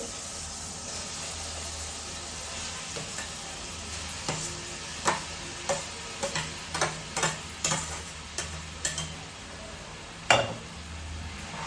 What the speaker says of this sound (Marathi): आणि आता हा सोया व्यवस्थित असा मिक्स करून घेते